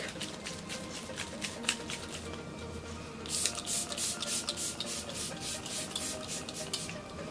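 Rapid rattling and sloshing from a small Kat Von D Lock It setting spray bottle being shaken, a rhythmic series of bursts that grows louder midway.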